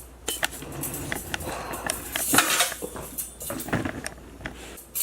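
A metal roasting rack clattering and scraping inside the enamel-covered metal pan of a Hamilton Beach roaster oven, a busy run of close metallic clinks and rattles with no talking.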